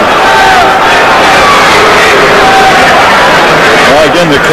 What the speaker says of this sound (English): the crowd is growing restless